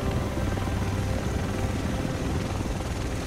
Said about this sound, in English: All right, the chopper is here.